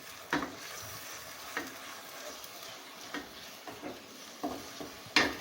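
Ginger-garlic tomato masala for a meat saalan fries and is stirred in a pot, with a steady sizzle broken by sharp spoon scrapes and knocks about every second.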